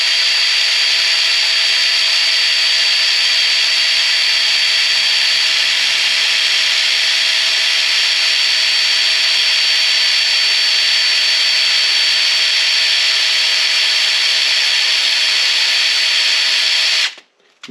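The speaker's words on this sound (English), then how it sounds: "So I just got to drill the seal through it to get the screw in." A power drill bit whines continuously as it bores through a Ford E150 steering shaft seal, with a steady high-pitched grinding tone held for many seconds before stopping abruptly at the end.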